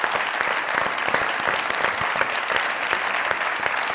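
Studio audience at a Pakistani comedy talk show breaks into sustained, even applause, a thick wash of many hands clapping at close range for the full stretch.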